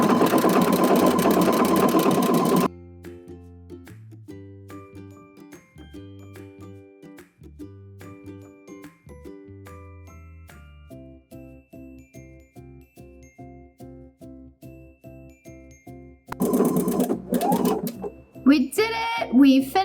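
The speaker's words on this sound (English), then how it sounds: "I'm going to be using stitch 32 in the Omni Motion stitches on the Husqvarna Viking Designer Epic 2" A Husqvarna Viking Designer Epic 2 sewing machine runs a decorative stitch on denim, a steady rhythmic close whirring of repeated needle strokes, framed by a short burst of other sound at the start and end.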